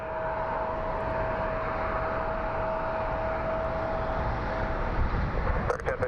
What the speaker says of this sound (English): It's an American Airlines 737.